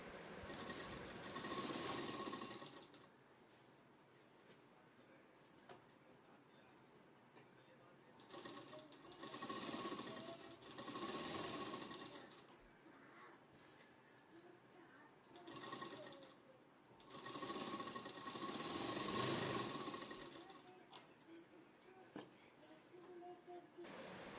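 Domestic sewing machine stitching the folded hem of a salwar leg opening, running in several bursts of steady rapid whirring separated by pauses, with quiet talk in between.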